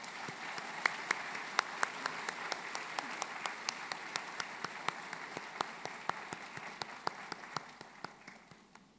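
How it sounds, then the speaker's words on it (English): A round of applause for guests of honor at a hospital authority convention opening ceremony, steady clapping from a hall audience with some sharper individual claps standing out, fairly faint and continuing throughout, slowly fading toward the end. "May I invite you to a round of applause for our guests of honor."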